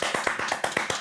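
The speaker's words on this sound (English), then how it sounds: "Round of applause, please" A few people clap in a brief, sparse round of applause, about a dozen distinct close claps at a quick steady rhythm.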